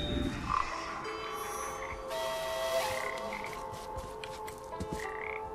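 A frog croaks in the video game Papo & Yo, repeated croaks over a soft game ambience with chirps and tonal effects, fairly close and moderately loud.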